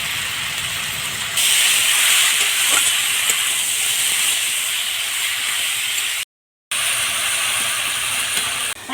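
Chopped onions and torn green chillies hit a hot pan in a village kitchen, giving a loud, steady, close sizzle and hiss that holds without a break, cut by one short silence.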